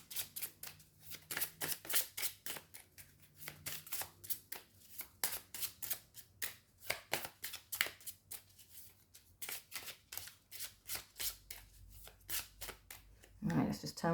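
Deck of tarot cards being shuffled by hand, a fast run of crisp riffling flicks repeating steadily at close range, ending in a louder clattering bridge.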